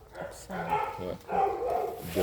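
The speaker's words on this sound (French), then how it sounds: "Là, c'est le chien." A dog barks in short bursts at a vanilla plantation site while people talk over it in French.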